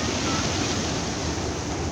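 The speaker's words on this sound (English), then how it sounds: "with the pebbles on the beach and the water from the East River rushing in" Steady broadband wash of East River water rushing onto a pebble beach in Brooklyn's Dumbo park at high tide, a continuous close, full-bodied roar with no gaps and no voices.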